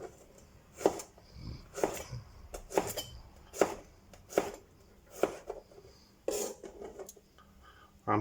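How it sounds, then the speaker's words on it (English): A knife chops garlic on a board, eight or nine sharp irregular knocks spread over several seconds, close and clear with no talk. "I'll start off by chopping the garlic up."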